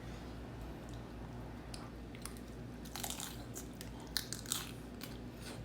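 Someone bites into loaded pulled pork nachos, producing a few faint crunches and chewing sounds over a quiet background hiss.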